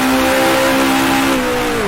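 Engine of a 1966 Formula 1 car in the Grand Prix Legends racing game, a steady high-pitched whine of revs climbing then easing slightly as it holds throttle, loud and close with no talk over it.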